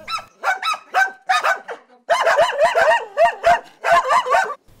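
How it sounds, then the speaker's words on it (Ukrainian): Dogs in a house full of rescued animals in Zaporizhzhia bark loudly and close in repeated bursts, with some higher yelping and whining barks between the louder ones. "В будинку Наталії Назаренко живе 43 кішки та 4 собаки."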